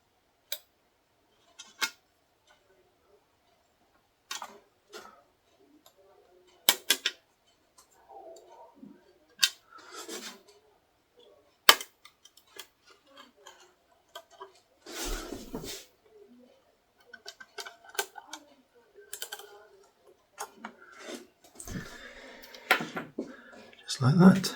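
Plastic covering film on a model aircraft wing being trimmed away around the undercarriage block, giving scattered dry ticks and crackly snips at irregular intervals, close and fairly quiet, with bursts of handling rustle between them.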